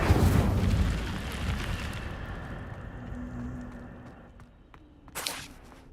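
An Incendio fire spell from Hogwarts Legacy erupts in a loud, roaring whoosh that fades gradually over several seconds, followed by a short, sharp burst near the end.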